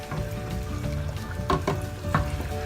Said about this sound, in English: Then I'll stir it together, mix everything together.